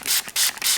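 A spray bottle of rubbing alcohol spritzes three quick, close hissing bursts with brief pauses between them, with no talking.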